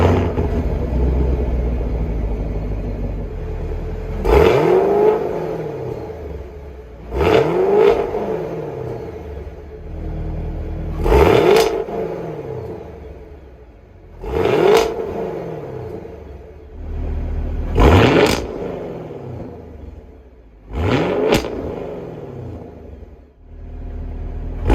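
A 6th-generation Chevrolet Camaro SS V8 on its factory exhaust is revved six times at steady intervals, each sharp rise to a loud roar falling back to a deep idle rumble between blips.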